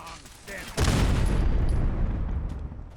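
Turret gunfire in a video game, a sudden heavy burst of booming shots that holds as a loud, dense roar for a couple of seconds before easing slightly.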